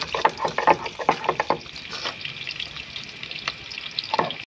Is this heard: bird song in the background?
no